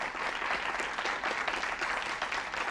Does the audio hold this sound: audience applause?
yes